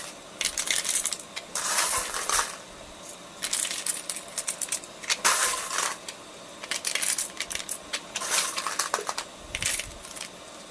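A DIY automatic coin sorting machine with a slider, built for vending and laundry use, rattling and clinking as coins drop through it in repeated loud bursts separated by short pauses, close up with no talking.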